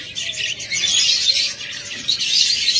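A pair of rainbow budgerigars chirps and chatters continuously at close range, bright overlapping tweets with no talking.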